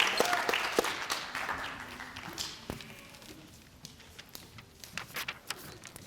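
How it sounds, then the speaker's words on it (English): An audience applauds 4th grade participants at an elementary school district literacy competition, with a dense burst of clapping that thins out into scattered claps and fades over several seconds. "If we can give a round of applause to our 4th grade participants"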